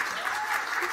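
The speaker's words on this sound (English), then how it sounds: "you can clap" A brief wash of audience clapping at a documentary awards ceremony in New York, steady and moderately loud for about a second.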